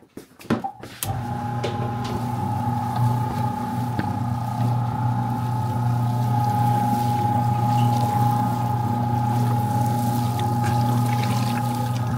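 An electric meat grinder works through a venison and pork sausage mix for smoked Polish sausage, a steady, loud motor drone that holds unbroken after a brief clatter at the start, with no talking.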